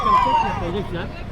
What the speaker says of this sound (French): la sirène de la moto